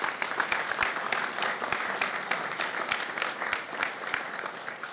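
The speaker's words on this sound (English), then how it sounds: "Please give them a round of applause very quickly." An audience at a Columbus community gathering applauds a senator's nonprofit work. Steady clapping from a moderate-sized crowd, with a few sharp, distinct claps standing out near the front, runs continuously throughout.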